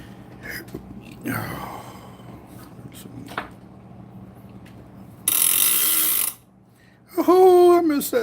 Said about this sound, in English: So now we got to finish pulling up on the reel and we'll be good to go.